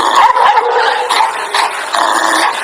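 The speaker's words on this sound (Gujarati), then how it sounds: "કૂતરા ભહે મરી ગયા" Several dogs barking and yelping close by in a street, a rapid, excited burst of overlapping barks and growls that ends abruptly.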